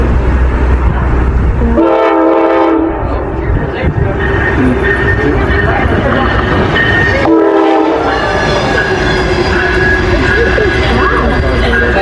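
A loud train rushes past close by, its horn blaring twice over a steady roar of rolling wheels and rattling cars.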